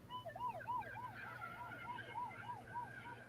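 An ambulance siren in a Superman film wails in a steady repeating up-and-down pattern, about eight cycles, moderately loud over a low background hum, with no talk.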